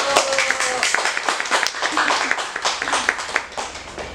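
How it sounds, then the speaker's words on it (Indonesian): A small podcast studio audience gives a brief round of clapping to welcome two guests, scattered, uneven hand claps of moderate loudness mixed with a voice speaking over them. "Tepuk tangan dulu"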